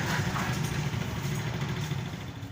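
A just-repaired motorcycle engine runs steadily at idle nearby, a continuous low throbbing rumble with no talk over it.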